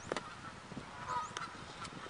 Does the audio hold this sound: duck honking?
yes